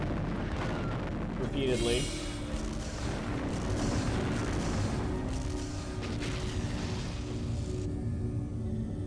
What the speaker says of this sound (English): Something just tried to rocket me.